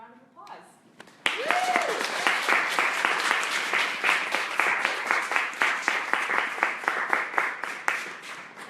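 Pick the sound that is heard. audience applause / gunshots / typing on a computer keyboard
audience applause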